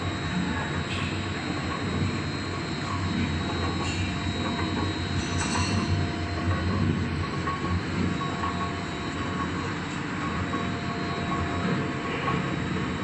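A horizontal ribbon mixer running with no load: a steady, loud mechanical rumble and hum of machinery running continuously, with a faint high whine and occasional light clicks, no voices.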